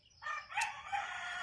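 A rooster crows once on a farm in the morning, a clear drawn-out call at moderate distance, with no talk over it.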